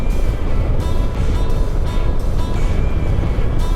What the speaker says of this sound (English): Pretty quiet exhaust. I mean, it's got a little throaty sound, but it's typical for stock